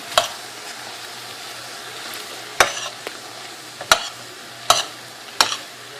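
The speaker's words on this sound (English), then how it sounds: "So saute these up till they get nice and tender." Vegetables for pasta primavera sautéing in a pan, a low steady sizzle punctuated by four or five sharp, distinct spatula scrapes and taps against the pan, close up with no talking.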